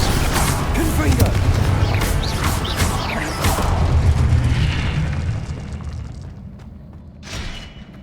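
A Confringo fire spell explodes in the video game Hogwarts Legacy, with a dense, loud blast and crashing rumble that fades after several seconds, followed by a smaller late burst.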